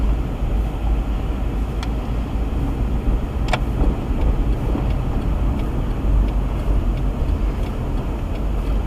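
A car drives on a roadway with a steady, loud road and engine rumble throughout, overlaid by occasional faint clicks and ticks from the cabin.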